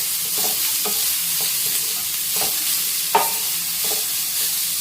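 Ground ridge gourd peel paste fries with onions and garlic in a pan, a steady sizzling hiss broken by several distinct scrapes of stirring, one sharp clink near the end.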